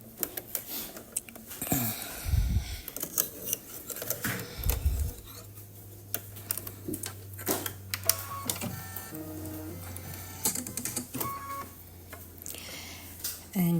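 An embroidery machine stitches a teddy bear in the hoop with a steady mechanical rattle, sounding close and even. Speech runs over it and breaks in briefly as the machine carries on.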